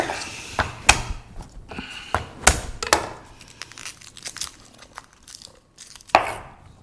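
A kitchen knife slices and roughly chops two garlic cloves on a cutting board. Irregular crisp thuds and scrapes come close up, with short pauses between bursts of cuts.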